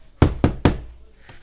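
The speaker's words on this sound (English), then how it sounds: "He go knock on the door." Three sharp knocks on a door in quick succession, then a fainter fourth after a pause, close and alone in a quiet room.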